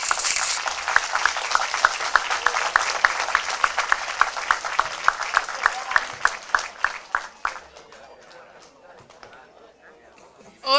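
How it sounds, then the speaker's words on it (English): Assembly members break into applause after a resolution passes at a regional youth parliament session in Sassari, steady rhythmic clapping from a crowd that gradually thins out and fades over about eight seconds. "Clapping is in order."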